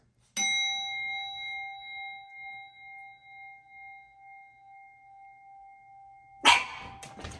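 An energy-cleansing chime rings out long and clear for several seconds, then a dog gives one sudden, loud, startled bark as the tone fades.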